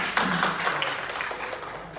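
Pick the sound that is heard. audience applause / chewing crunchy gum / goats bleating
audience applause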